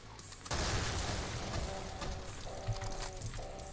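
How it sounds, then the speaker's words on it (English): A grenade explodes in Brutal Doom, on the Back To Saturn X MAP11 level, with a sudden loud boom that rolls into a sustained rumbling blast and debris noise, followed by fainter tonal game sounds. "So grenade."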